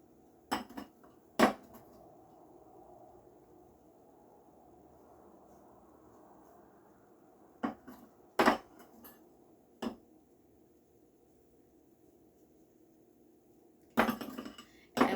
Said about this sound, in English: since I have a pastry blender, I'm going to go ahead and use this